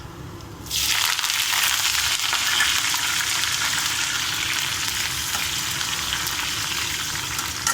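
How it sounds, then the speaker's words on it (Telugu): Mustard and cumin seeds spluttering in hot oil for a besan curry, a loud dense crackle that bursts in abruptly and then holds steady and close throughout, with no voices. "చిట్పటలు ఆడుతుంది కదండి. ఇప్పుడు మనం జీలకర్ర కూడా వేసుకున్నాము."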